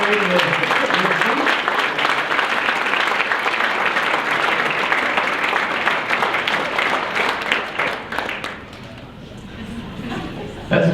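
A crowd at an athletic hall of fame ceremony gives sustained applause, loud and dense for several seconds before thinning out, with a few voices underneath.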